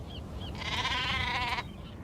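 One sheep bleats in the Nancy Drew: The Haunting of Castle Malloy video game, a short wavering bleat of about a second, fairly faint over a low ambient background with small chirps.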